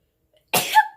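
A woman gives a single sharp sneeze, a sudden close burst of breath with a brief voiced tail, after a moment of silence.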